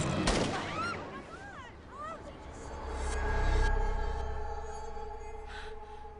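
A gunshot rings out in a dramatic movie confrontation, a sharp loud crack at the start followed by a rumbling low boom and sustained tense musical score, with a voice gasping briefly early on.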